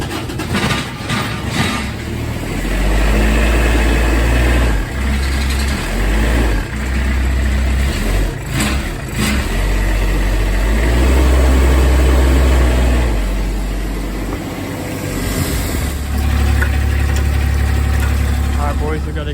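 A diesel engine runs steadily after its glow plugs have been heated, with a loud, continuous low rumble and some revving swells. Voices and movement sounds can be heard over the engine.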